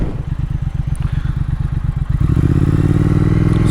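A 2019 Triumph Speed Twin motorcycle engine thrums while being ridden, a loud, steady low pulsing beat that rises into a denser, smoother drone as the revs build, with no voices.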